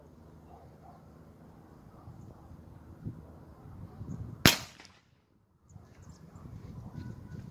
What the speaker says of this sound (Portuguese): Atira mais embaixo para nós ver o estrago.